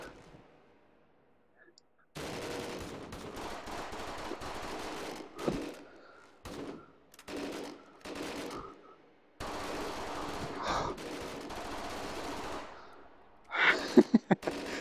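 Gunfire rings out in the VR shooter Hot Dogs, Horseshoes & Hand Grenades, arena prototype: bursts of rapid automatic fire and scattered sharp shots, separated by short pauses, with someone talking between them.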